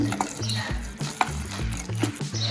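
Fermented dhokla batter being mixed by hand in a bowl, giving soft wet stirring and sloshing sounds in a steady rhythm with a few light clicks, close and fairly quiet.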